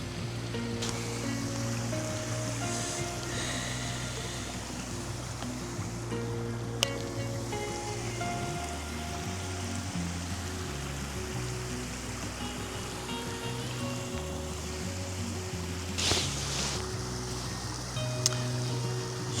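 A steady, broad rush of water pouring over a dam into a river, constant and moderately loud, with occasional faint knocks in the foreground.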